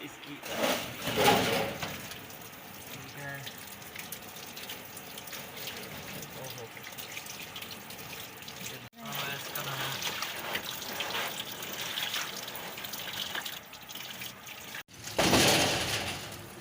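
Water splashes and trickles steadily while a person cleans an air cooler at home. Someone talks over the water nearly the whole time, and there are occasional knocks and scrapes from handling the cooler.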